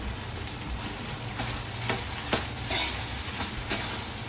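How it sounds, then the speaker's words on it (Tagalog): Tofu sisig ingredients are stirred in a frying pan, giving a continuous sizzle with repeated scraping and clacking of a utensil against the pan. "haluin din natin hanggang sa mag-mix ang mga ating sangkap"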